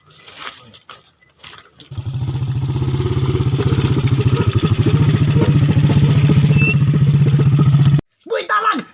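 A motorcycle rides over a bridge in a rural provincial area, its engine droning steadily and loudly up close for several seconds before cutting off abruptly, with some clatter and faint voices at the start and end.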